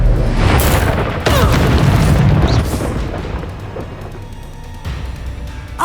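Bombarda explosion spell cast in the video game Hogwarts Legacy: a loud, deep booming blast with crackling debris that swells and rolls on for several seconds before tapering into a low rumble, with another small burst near the end.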